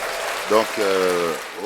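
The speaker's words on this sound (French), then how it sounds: "Applaudissez." Studio audience applause on a French radio show, a brief burst of clapping that sits under a speaking voice throughout.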